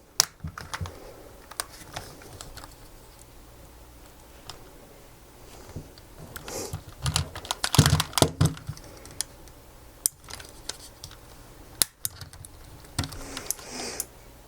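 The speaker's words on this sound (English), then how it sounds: "You just need to click it in place." Plastic clicks and snaps as the headband cushion on a pair of Beats Solo HD headphones is pressed back into place, a run of small close ticks building to a busier cluster of handling sounds.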